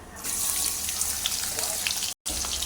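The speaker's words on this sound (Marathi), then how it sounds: "तेल गरम झाले त्यामध्ये घालूया जिरं जिरं भाजल्यानंतर घालूया आपण कांदा" Chopped onion sizzling in hot oil with cumin, a loud, steady, close hiss that cuts out abruptly for a moment near the end.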